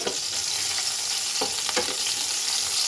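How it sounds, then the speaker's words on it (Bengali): Oil sizzles and crackles steadily as eggplant fries in a pan, with a few sharper scraping stirs and no talking. "বেগুনটা আমি ভেজে নিই।"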